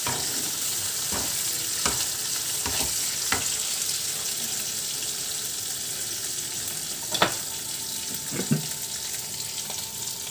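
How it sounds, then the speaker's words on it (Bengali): Green chillies fry in a pan of hot oil for a fish-head kochu shak dish, a steady sizzle running throughout with several sharp stirring clicks and scrapes of the utensil against the pan. "একটু ভেজে নেব।"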